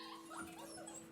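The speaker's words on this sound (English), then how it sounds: "how an experienced dog mother teaches her 8-week-old puppies to be calm" An experienced mother dog and her 8-week-old puppies give faint whimpers and small yips, soft and wavering over a noisy background.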